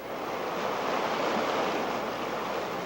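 Vacas River rushing along a trail with no bridges near Aconcagua, a steady broadband roar of churning water that stays loud and unbroken throughout, with no voices.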